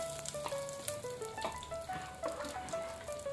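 Asafoetida hits hot oil in a pan and crackles in a soft, steady sizzle. Faint clinks and tones sound over it throughout.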